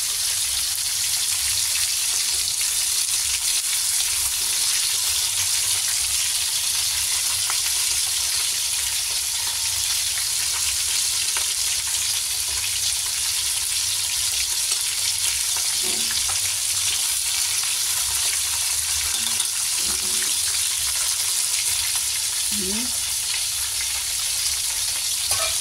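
Pork steak marinated in soy sauce and calamansi fries in a pan, giving a steady, continuous sizzle with a few soft clinks from stirring near the end.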